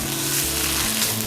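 Peanuts sizzling in a pan of Panang curry as they warm, a steady close crackling fry with no voices.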